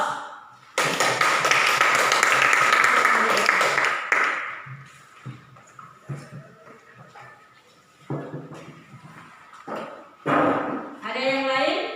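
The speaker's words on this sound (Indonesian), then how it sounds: "Diberi aplaus" Classroom applause for a group that just presented, a burst of clapping from students lasting a few seconds, then quieter room noise with short spoken remarks.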